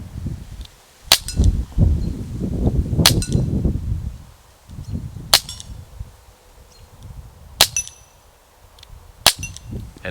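Webley MK VI CO2 revolver firing six double-action shots, each a sharp, loud crack spaced a couple of seconds apart, with handling rustle and low background noise between them.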